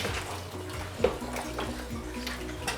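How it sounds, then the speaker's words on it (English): Water boils in a cooking pot for sinigang, a continuous close bubbling and churning with a few sharper pops and splashes. "Okay, so water's boiling."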